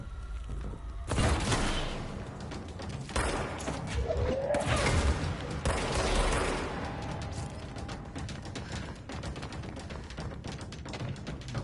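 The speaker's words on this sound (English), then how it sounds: "Hey, who's shooting those rockets at me?" Gunfire and rocket blasts in the video game Control, a dense, continuous barrage of booming explosions and crackling shots that swells and fades over a steady noisy din, with no pause.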